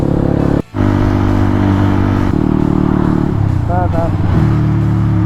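Idling engine of an RKF 125 motorcycle, a steady low rumble that runs through the whole stretch with a brief cutout near the start and a slight rise in pitch toward the end, loud and close with no talk.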